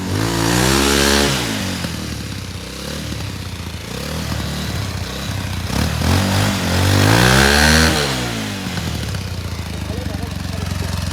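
A motorbike rides through a village, its engine note steady and rising in pitch near the start and again mid-ride, running close and loud throughout while people talk over it.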